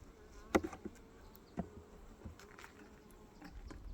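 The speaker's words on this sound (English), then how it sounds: "Few bees, not many." Bees buzzing around an opened beehive frame, a faint thin hum close by with a couple of soft knocks and clicks as the frame is handled.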